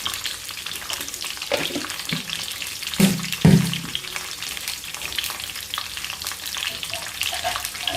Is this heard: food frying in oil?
yes